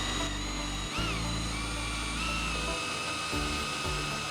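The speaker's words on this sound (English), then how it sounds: "we're going to use our step bit to line up and open these holes up" A step drill bit whines steadily as it opens pre-marked holes up to final size, a thin, continuous high-pitched drilling tone with a brief dip partway through, fairly quiet throughout.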